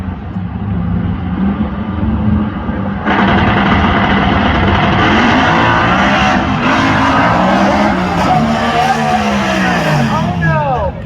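Drag racing car launching down the strip at Sick Week in Gainesville, a loud roaring engine that jumps in intensity after a few seconds and holds with rising and falling pitch, crowd and commentary mixed underneath.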